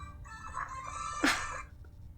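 A robotic, chicken-like squawk from a droid in Knights of the Old Republic II, a single sharp rising cry over a steady hum of synthesized tones.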